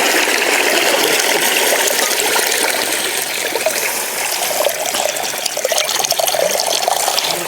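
Water running steadily while country chicken is washed, a loud close continuous splashing flow with slight variations as it falls.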